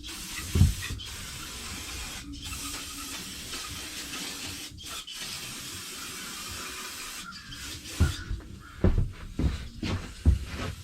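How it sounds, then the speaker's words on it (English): Aerosol brake cleaner sprayed onto a polished engine part in a shop, a steady close hiss running for several seconds with brief pauses, followed by scattered clanks and handling knocks. "we're going to spray it down with some brake clean"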